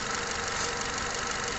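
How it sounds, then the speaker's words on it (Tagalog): An engine runs steadily just after starting, a constant close, dense mechanical roar with a faint knocking texture and no talk. "Start engine."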